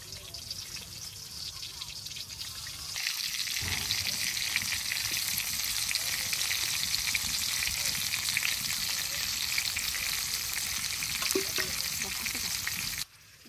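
Eggplant frying in hot oil, a dense steady sizzle heard up close that grows louder after a few seconds and continues unbroken until cut off.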